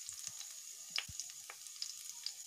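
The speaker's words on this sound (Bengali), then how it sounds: "কড়াইটা দিয়ে দিচ্ছি তেল পরিমাণ মতন, তেলটা ভালো মতন গরম হয়ে গেলে তারপরে দিয়ে দিব সবজিগুলো একে একে" Carrots and other vegetables frying in hot oil in a wok, giving a soft sizzle with scattered faint crackles and small clinks throughout, and no talk.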